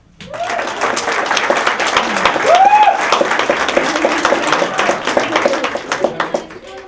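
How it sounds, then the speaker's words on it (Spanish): Sustained applause from an audience at a book presentation, welcoming a speaker who is a master of communication; steady dense clapping throughout, with some voices and crowd noise mixed in. "para quien pido un fuerte aplauso"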